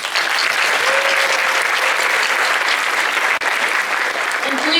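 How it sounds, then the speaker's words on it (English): Large conference audience at a Model UN event applauding, steady dense clapping that stays loud and unbroken throughout. "Just one more round of applause."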